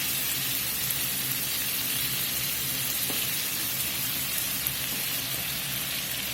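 Wine bubbling and reducing in a hot pan, a steady, even sizzle and fine crackling hiss that continues unbroken, close and moderately loud with no talking.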